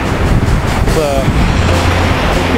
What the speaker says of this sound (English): Those waves are crashing big time.